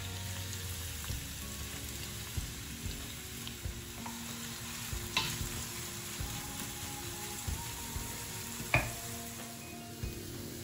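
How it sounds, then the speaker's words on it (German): Onion sweating gently in melted butter in a pan, a low, steady sizzle with a few soft clicks and pops, heard close and alone without any talk. "Zwiebel in zerlassener Butter etwas anschwitzen."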